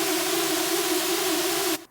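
Hard trap lead synth patch built in Serum with the mod wheel fully up, a loud sustained buzzy screech with a strong steady pitch, heavily saturated and bright, holding continuously before cutting off abruptly near the end.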